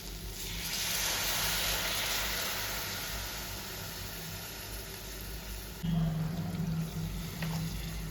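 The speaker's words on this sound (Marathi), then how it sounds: "आता आपल्याला गॅस फास्ट करून पाणी टाकायचं आहे" Water is poured into a hot pan over a high gas flame to cook masala Maggi noodles, a steady broad hiss and rush that swells and shifts tone near the end, with no talking.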